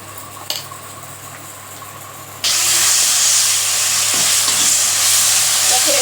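Mutton liver frying with ginger garlic paste in a hot pan, quiet at first with a faint clink, then a sudden loud, steady sizzle and hiss bursting in and continuing close up, no voices.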